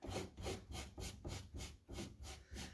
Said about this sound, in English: let's go ahead and burnish the transfer